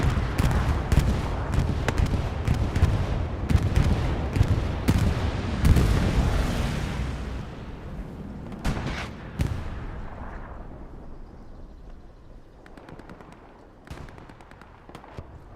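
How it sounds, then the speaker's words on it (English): Bombing-run explosions in the video game Hell Let Loose roll in as a dense, heavy rumble of blasts, then thin out into scattered booms that fade into distant, quieter impacts. "Now this is the Helios bombing run."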